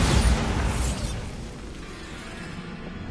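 Bombarda spell blast in a Hogwarts video game, a loud booming explosion that bursts at once and then rumbles down into a long, fading roar with no voices over it.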